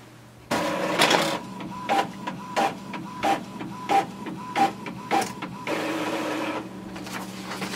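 An Epson XP-4100 inkjet printer prints a connection check report, with rhythmic mechanical clacks and whirring feed bursts repeating steadily for several seconds, loud and close, without speech.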